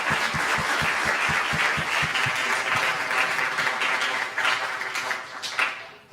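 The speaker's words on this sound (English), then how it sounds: "let's give a huge round of applause to everyone who has presented" Audience applause for presenters at a technical forum of an energy fellowship program, a dense, steady wash of many hands clapping with some low thumps, easing off toward the end.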